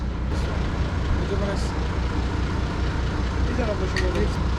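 A vehicle engine rumbles steadily at low pitch throughout, idling or running close by, with a few faint higher clicks and hisses.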